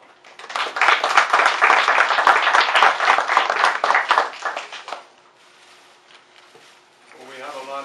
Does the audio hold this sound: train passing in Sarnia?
no